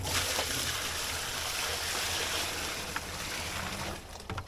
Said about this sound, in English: And I put it in this barrel.